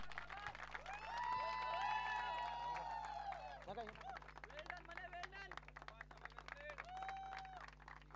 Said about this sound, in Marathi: पल्लवीसाठी सुद्धा आपण जोरदार टाळ्या वाजवा